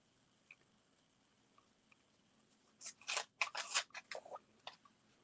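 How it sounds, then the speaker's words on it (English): Scissors snip through fabric pieces close by, a quick run of sharp crisp cuts in the second half after a quiet stretch with only faint ticks. "Now you can cut all your pieces."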